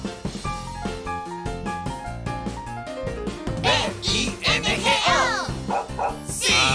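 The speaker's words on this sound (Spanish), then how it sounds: "Había un granjero que tenía un perro y se llamaba Bingo." Dog barks and yips ring out over a bouncy Spanish-language children's song about a farmer's dog named Bingo, the barks clustered in the second half and mixed loudly with the music.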